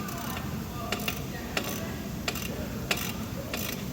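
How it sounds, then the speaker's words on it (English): A ratchet with a 32mm socket tightens the oil drain plug on an Audi Q7, giving a handful of separate clicking ticks over a steady background hum, close up, with no talk. "We'll grab our socket, 32mm socket, and ratchet."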